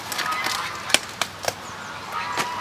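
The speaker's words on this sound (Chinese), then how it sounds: "听到鹅声了吗？ 鹅在叫了" A few short honks from geese, somewhat distant, spaced irregularly against a steady outdoor background hiss.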